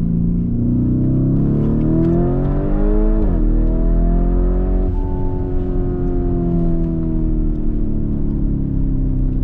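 A 650 hp Lamborghini Urus engine rises and falls as it accelerates and shifts, a loud, smooth, close drone with a sharp gear change in the middle and no clear exhaust pops.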